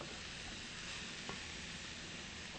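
Diced zucchini and chopped onion sizzle steadily in a hot pan, a constant bright frying hiss with a faint stirring scrape partway through.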